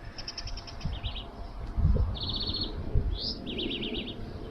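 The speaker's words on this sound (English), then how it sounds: "I'm going to let the birds out for a bit of a fly" Birds at a pigeon loft give quick repeated high chirps in short bursts as they are let out to fly, several trilled phrases over a few seconds above steady outdoor rumble and movement noise.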